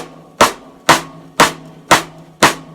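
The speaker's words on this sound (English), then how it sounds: "So again, that was literally maybe 1/4 of an inch, and I get this nice crack out of it." Drum cross-stick clicks on a snare, played with the stick shifted slightly toward the rim, five crisp, loud, evenly spaced cracks with short ringing decays, heard alone and up close.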